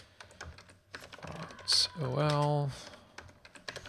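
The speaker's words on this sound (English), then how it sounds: "I can never type block quote correctly." Quick, uneven keystrokes tap on a computer keyboard close to the mic during web page typography coding, with a person speaking briefly over the clicks.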